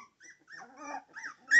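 A puppy under a year old gives soft, broken growls and whiny yips in short bursts, close and fairly quiet, ending on a slightly louder note.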